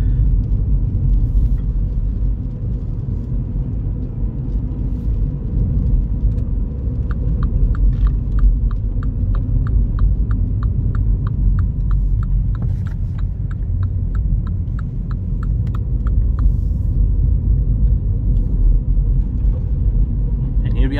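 A Mini Cooper on a short test drive on the road, heard from inside the car as a steady, loud low rumble of engine and road noise, with a regular light ticking for several seconds midway.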